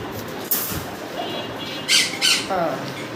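A fancy pigeon gives a few harsh, squawking calls at close range over a noisy background, with short bursts near the start and end.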